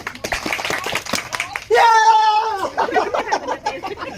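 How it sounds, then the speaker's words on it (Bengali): A short burst of audience clapping for a prize winner, followed by a loud, drawn-out excited shout and lively voices over the applause. "তোমার হাততালি মারেন"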